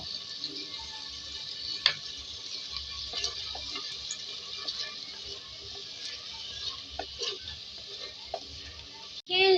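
Garlic frying in oil in a pot for a handi aloo chicken, a soft steady sizzle with occasional stirring clicks and scrapes, fairly quiet and without talk.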